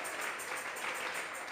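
A church congregation applauds God during a service, a steady dense clapping that fills the whole short stretch, moderately loud and continuous.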